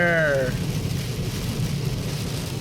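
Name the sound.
heavy rain pouring on a car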